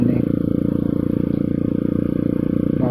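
A Kawasaki KLX 150L trail motorcycle idles and putters steadily close by, its engine and exhaust giving a continuous low, even throb throughout with no talk.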